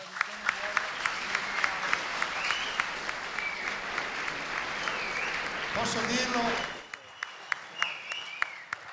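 An audience bursts into warm, sustained applause that swells before fading, followed by someone speaking over scattered final claps.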